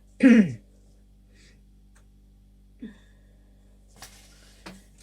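A single sharp cough near the start, followed by quiet with a few faint clicks and small throat noises.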